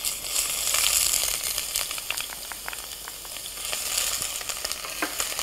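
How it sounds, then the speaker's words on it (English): Ginger and green chilies sauté in hot ghee in a home kitchen pan, giving a steady close sizzle with scattered crackles and pops throughout, no voices. "So ginger and chilies are sautéing away."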